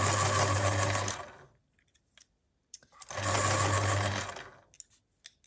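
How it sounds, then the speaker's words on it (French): A Caran d'Ache electric pencil sharpener grinds colored pencils in two separate bursts, each about a second and a half of close, loud whirring with brief quiet gaps and small clicks between them. "Je les taille avec le taille-crayon électrique de chez Carandache"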